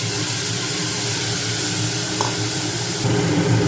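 Chana dal tipped into a hot oil tempering in a pan, giving a steady close hiss and crackle that swells slightly near the end, with no talk.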